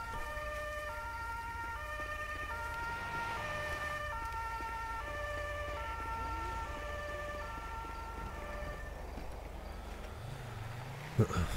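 An ambulance siren in the game GTA 5 wails steadily with rising and falling tones over a low engine rumble for the whole stretch, ending with a brief thump.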